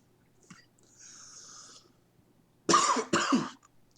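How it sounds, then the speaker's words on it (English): Two sharp, close coughs in quick succession burst out near the end after a brief quieter stretch, loud against a faint room background. "Sorry, I coughed."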